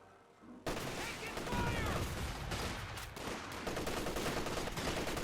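Rifle fire and battle noise in a Company of Heroes 2 match, a dense steady clatter of gunfire starting abruptly after a brief quiet opening and continuing loud throughout, with speech mixed in.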